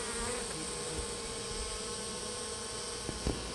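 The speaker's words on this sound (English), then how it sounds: "you can see a yellow jacket pestering the bees already" Honey bees from a late-summer swarm fed on sugar water, with a yellow jacket pestering them, forming a steady, close, continuous buzzing drone with no voices.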